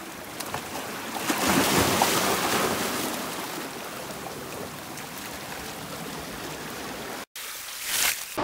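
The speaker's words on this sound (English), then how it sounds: "Look at this wave, look at this wave. They're huge" Large ocean waves crash and surge in loud, broad roaring washes close by, swelling and receding with a brief cutout near the end and a fresh surge after it.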